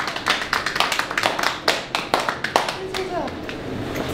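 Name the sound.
applause for Kai Pflaume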